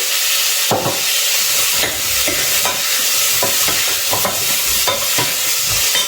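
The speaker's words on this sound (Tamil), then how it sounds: "இப்போவே போட்டுடலாமா காயை? வெங்காயத்தோட சேர்ந்து வதங்கிடும்" Vegetables sautéing with onions in a hot pan, a loud steady sizzle punctuated by repeated scraping stirs of a spoon at a fairly regular pace, close up and without talk.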